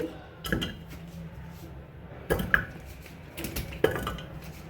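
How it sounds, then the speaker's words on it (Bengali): Potatoes and beetroot for aloo tikki go into a pressure cooker with three clear clattering knocks of pot and utensils, close by, over a quiet kitchen background. "আমি কুকারের মধ্যে সব দিয়ে দিচ্ছি"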